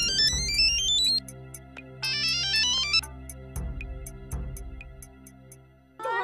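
A mobile phone rings with an electronic melodic ringtone, rising arpeggio runs and bright repeated tones over a steady beat, loud and alone for several seconds before breaking off.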